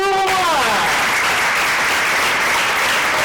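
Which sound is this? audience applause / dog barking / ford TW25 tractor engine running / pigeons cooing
audience applause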